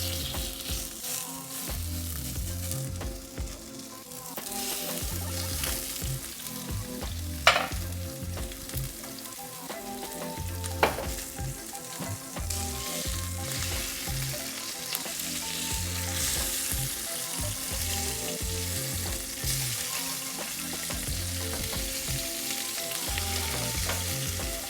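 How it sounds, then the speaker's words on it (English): Salmon sliders frying in extra virgin olive oil in a pan over low heat, a steady soft sizzle and crackle with a couple of sharp pops, no talking. "I got my salmon cooking, beautifully golden brown on each side, for about 4 to 5 minutes on low heat"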